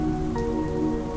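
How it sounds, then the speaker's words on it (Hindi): Rain falling on a cloud-covered hilltop at Chidiya Tapu in the Andaman Islands, a steady, even patter that fills the short stretch without pause or voices. "पूरा नजारा बादलों से घिर जाता है और बारिश होने लगती है"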